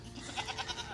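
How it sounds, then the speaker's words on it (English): Baby goats bleat on a farm in a quick run of wavering, nasal cries, close and clear over a steady background. "Uncle Lester got some baby goats on his farm?"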